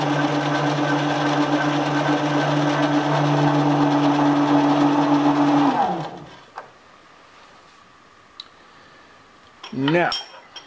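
A Sewer Slinger 14 drain-cleaning machine spins steadily with a droning motor hum and rattle, then slows and winds down partway through, leaving quiet, followed by a brief rising whirr near the end.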